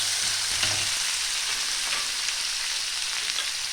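Large-cut chopped onion fries in a pan for an eggplant bharta, giving a steady, close sizzle with faint stirring clicks and no talking.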